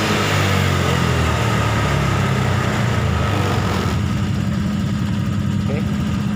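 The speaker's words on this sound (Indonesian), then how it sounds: "Sekarang motor udah normal ya." A Honda Vario 150 scooter engine runs steadily at a near, loud, even idle, its low throbbing hum continuous throughout.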